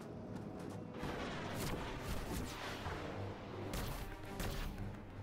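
A loud, continuous video game explosion (LEGO Marvel's Avengers) roars with rumbling and crashing debris, dense and sustained across the whole moment with no speech.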